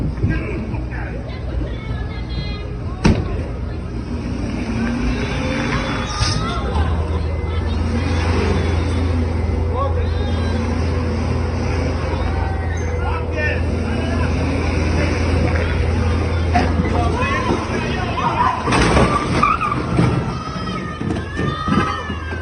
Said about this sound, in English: This dude is just annihilating the entire city block with his precious truck